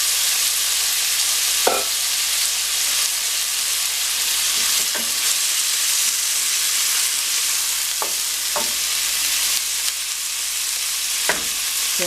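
Fresh vegetables and onions, some still partly frozen, sizzle steadily in a hot pan for chow mein, a loud constant frying hiss broken by occasional sharp clicks and stirs, with no talking.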